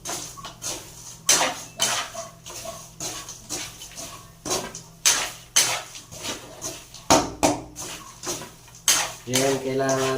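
Sweet peanuts are stirred in an old handleless wok, the spatula scraping and clanging against the metal in repeated loud, close strokes with a rattling of nuts, while someone talks now and then between the strokes.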